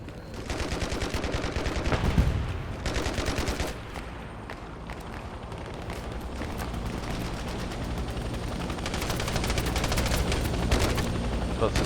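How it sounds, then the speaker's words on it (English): Rapid M16 rifle fire in the video game Hell Let Loose Vietnam, dense bursts of sharp automatic shots with echoing cracks from other weapons nearby, loud and nearly continuous, with a voice occasionally talking underneath. "That's the sound of an M16."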